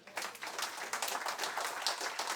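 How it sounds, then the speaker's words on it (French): A congregation claps together during a church service, a dense, moderately loud patter of many hands that swells quickly and keeps going. "Est-ce qu'on peut applaudir ça ?"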